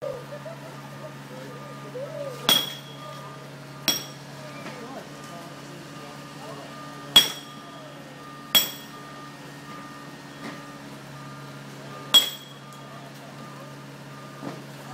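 Chisel striking the stone of a chapel wall during repointing, with six sharp metallic taps spaced a second or more apart. They ring out over a steady background hum, and no one speaks.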